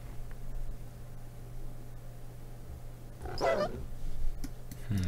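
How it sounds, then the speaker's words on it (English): A dog in the Red Alert 2 video game lets out a short, sharp bark-like yelp midway through, over a steady low hum and faint game ambience. "Dog got eaten. This green's dog."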